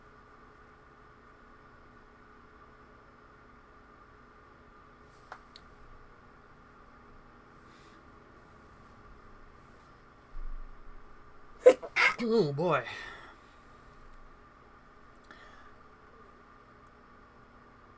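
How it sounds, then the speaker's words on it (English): A single sharp sneeze breaks a quiet room tone with a steady electrical hum, followed by a short exclamation. "I sneezed and then I felt another sneeze coming."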